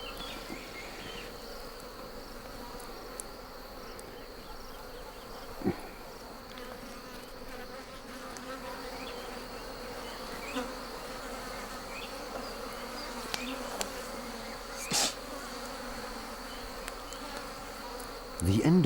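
Wild bees buzz steadily and continuously throughout, a dense droning swarm near a nest with occasional louder passes close by, no talking.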